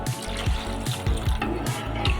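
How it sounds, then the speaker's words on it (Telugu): Water is poured into a cooking pot of chicken curry, making a continuous splashing, gurgling stream that stays fairly quiet and steady throughout. "నీళ్ళనన్నీ వేసుకున్నాం కదా"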